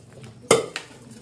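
A spoon or ladle clanks once against a pot of goat trotter curry during stirring, a single sharp metallic knock followed by a softer tap, close and brief over a quiet background.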